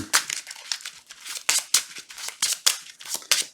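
Cards for the Colossus board game are shuffled into a deck by hand, making a rapid series of crisp, papery riffling bursts in a steady rhythm, close up and with no talking.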